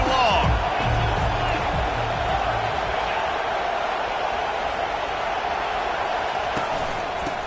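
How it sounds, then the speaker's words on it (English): A college football stadium crowd at Nebraska vs. Wisconsin roars steadily and loudly on third and long, a dense, sustained wash of noise with a commentator talking over it. "Here comes the crowd trying to make it tough on 3rd and long."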